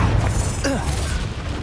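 A Confringo spell blast from the Hogwarts Legacy video game: one sudden whooshing burst with a rising swoop, set against a steady din of game effects.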